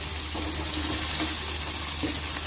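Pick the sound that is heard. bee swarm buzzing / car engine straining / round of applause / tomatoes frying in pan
tomatoes frying in pan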